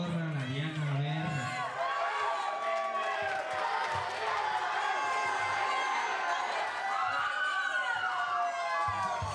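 An audience cheers and applauds for María Isabel, a steady wash of crowd noise with shouting voices and whoops rising and falling throughout, heard from within the crowd.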